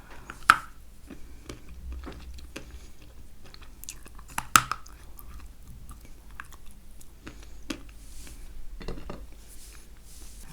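Close, crisp bites and chewing of a dense Kyrgyz variety that shatters into small flaky pieces, with a few sharp crunchy bites standing out over steady soft mastication, no talking.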